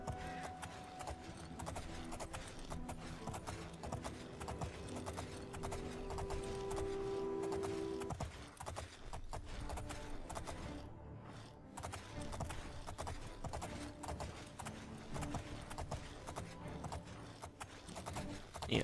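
A long run of rapid hoofbeats from a horse galloping in Oblivion, the Elder Scrolls IV, drums steadily over game ambience, with a sustained tone fading out partway through.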